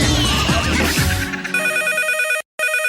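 A telephone rings with a repeating electronic tone after a burst of busy, jumbled radio studio sound, the ringing continuing loud and steady with one brief gap.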